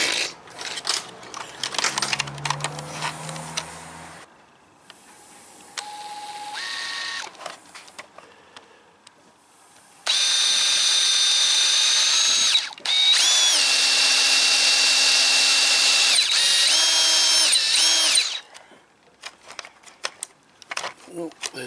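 Power drill boring a hole during the rebuild of a Series 1 Holden Commodore, with a steady high whine running about eight seconds, cutting out briefly and resuming, after earlier clattering workshop sounds and scattered short bursts.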